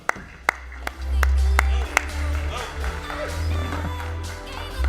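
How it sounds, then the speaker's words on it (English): A few sharp, scattered claps at the start as a speaker is welcomed onto a conference stage in Las Vegas, then a loud low rumble and a voice over a public address system take over. "please give him a warm round of applause"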